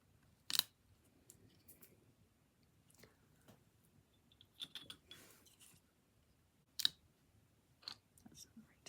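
Scissors snipping fabric printing material close by, a few crisp isolated cuts separated by pauses, with soft handling noises in between in a quiet room.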